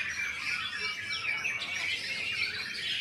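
Many songbirds at a bird-singing contest chirp and trill together in a steady, dense, bright chorus, heard from a middle distance against a constant background with no talking.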